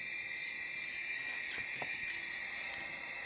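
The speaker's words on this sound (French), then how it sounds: "je ne sais pas si vous entendez les petits grillons que je vous ai mis en arrière-musique" Crickets chirp steadily in a continuous high-pitched trill, soft and even, with no other sounds.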